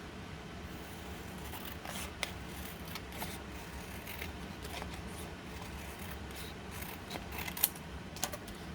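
Scissors snipping the corners of food packaging, faint scattered cuts and light plastic rustling at close range, quiet with no speech.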